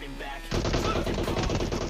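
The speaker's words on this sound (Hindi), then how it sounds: "लेकिन तभी किसी ने मेरे ऊपर डीपी से फायर करा।" Rapid bursts of DP machine gun fire ring out in a battle royale shooter as a player is attacked while looting near a squad house, loud sustained automatic gunfire starting abruptly and continuing to the end.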